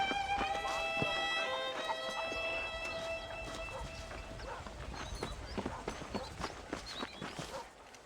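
Horse hooves clatter in a quick, uneven rhythm in the video game Red Dead Redemption, growing more prominent as sustained musical tones fade out early on.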